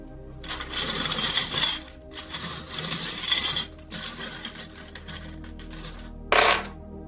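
Small dice and charms tumble and clatter onto a surface during a tarot reading, giving a rattling, clinking spill over several seconds, then a lighter settling patter and a final sharp clink.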